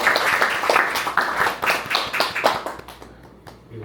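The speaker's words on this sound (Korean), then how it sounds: "다시 한번 박수 한번 드리겠습니다" An audience at a Nikka whisky master class claps for a few seconds. The claps come as a crisp, uneven patter of hands from a small group in a room and fade out toward the end.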